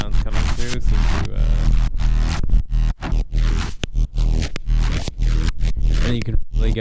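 A Eurorack modular synthesizer produces a gritty, aggressive neuro bass shaped by distortion and effects modules such as the Ruina and Versio, with loud, growling, choppy phrases of shifting, snarling timbre.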